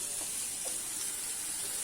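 Onions and potatoes frying in a pan give a steady, close sizzle and hiss that runs unbroken through the whole brief stretch, with faint soft stirring bumps and no voices.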